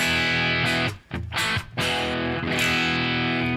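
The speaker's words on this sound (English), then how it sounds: "we're going to go after some Marshall tones here today" Heavily distorted electric guitar runs through a Marshall-style amp simulator plugin, playing loud, dense crunchy chords with two brief breaks between strums. No voices.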